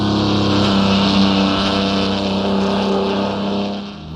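Engine of a Mercedes Transporter van in Assetto Corsa, driven on the Nordschleife, droning steadily and loudly with a sustained revving tone as it accelerates, no voices over it.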